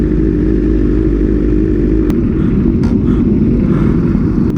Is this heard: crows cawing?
no